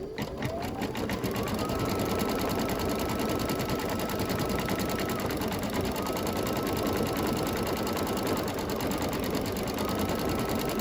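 A machine embroidery unit steadily stitches out small decorative details on a Halloween-themed quilt block, giving a loud, continuous, rapid mechanical whir with a fast needle rhythm that runs unbroken throughout.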